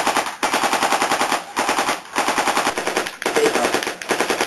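World War One machine gun fire as a sound effect: long rapid bursts of rattling shots broken by four brief pauses, loud and close, with no voices.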